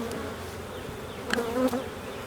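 Honey bees buzz around an open hive in warm weather, a steady close drone with one bee swelling louder as it passes near.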